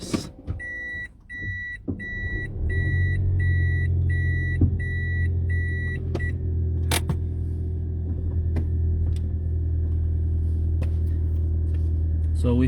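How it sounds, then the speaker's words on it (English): A car's engine rumbles steadily as the vehicle is moved a short distance, preceded by a rapid series of electronic beeps and a few clunks, with the low drone continuing loud and close throughout. "I'll just move my car a little bit."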